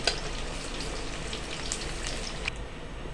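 Eggplant pieces being half-fried in hot oil for an aloo baingan dish, giving a steady close sizzle with dense crackling spits that runs the whole time and dulls slightly near the end.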